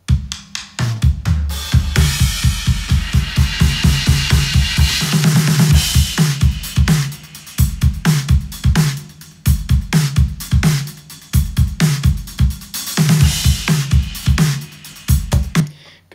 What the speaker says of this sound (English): we've got some drum recordings that I engineered for a song I produced